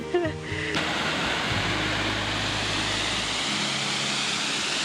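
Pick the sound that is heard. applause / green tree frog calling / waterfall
waterfall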